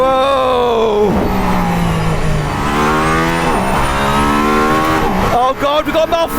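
A Mercedes-AMG ONE hypercar on the Nürburgring accelerates hard, its engine note climbing steeply in repeated sweeps with a gear change part way through, loud and close throughout, with a voice talking over it.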